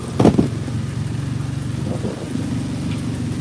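A 1986 EZGO golf cart engine runs at high RPM with its belt rubbing against the torque converter, making a steady close mechanical drone with a fast pulsing throb and a brief louder clatter at the start.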